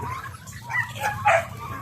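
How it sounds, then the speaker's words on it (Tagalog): A dog barks and yips nearby on a farm in short bursts, with a low rumbling hum underneath. "Ang ingay ng aso."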